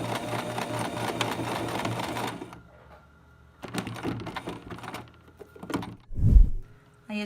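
A sewing machine stitches elastic onto a fabric face mask with a fast, buzzing, rhythmic rattle, stops, then runs again in short bursts for backstitching, followed by a soft thump and handling noise nearby.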